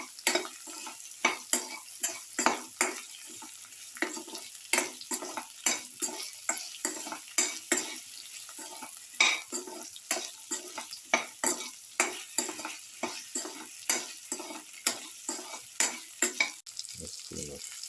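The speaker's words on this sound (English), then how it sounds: "mix in the salt" Okra sizzles steadily in a frying pan while a spoon stirs salt through it, scraping and clicking against the pan in a quick, regular rhythm, loud and close, with no talking.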